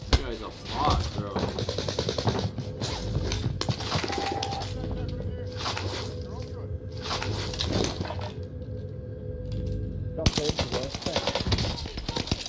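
NZ-41 rifle gunfire in a shooter video game: rapid bursts of close, loud shots repeating in quick strings, with frantic voices talking over the firing and a short lull near the end before shooting resumes.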